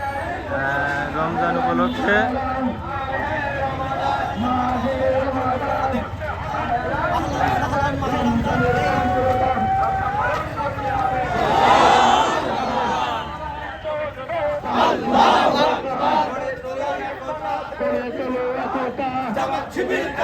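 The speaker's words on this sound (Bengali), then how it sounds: "আপনারা দেখতে পাচ্ছেন বিশাল বড় একটা মিছিল আসছে" A large procession rally at Navaron bazaar welcoming Ramadan moves past with crowd chanting and chatter, a dense, continuous mass of voices with louder surges near the middle.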